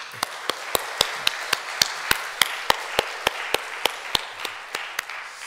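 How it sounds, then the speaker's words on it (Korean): During a Sunday church service, a single close pair of hands claps in a steady, evenly spaced rhythm, sharp distinct claps over a quiet room. "박수로 영광을 하나님께"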